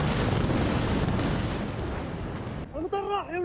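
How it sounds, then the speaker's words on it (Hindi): Iranian ballistic missiles exploding over Israel give a loud, continuous roar and rumble of blasts that cuts off sharply, after which a voice speaks close up. "पूरे इस्राएल पर करीब 200 बैलिस्टिक मिसाइलें बरस पड़ी।"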